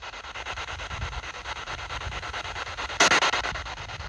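A ghost box radio in Skamby churchyard on Funen hisses with continuous harsh static, pulsing in a fast rhythmic sweep as it scans, with a louder burst near the end and no voices.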